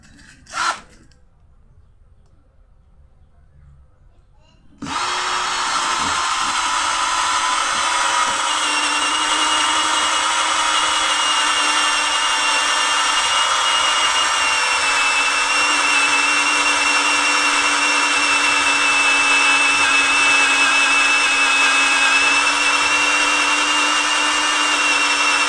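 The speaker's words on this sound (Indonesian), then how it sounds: "Sekarang bor kipas" Morris 16.8V cordless brushed drill fitted with an 18 mm spade bit cuts into wood, a loud continuous close-up whirring grind starting after a short quiet pause with a brief click, then holding steady for about twenty seconds.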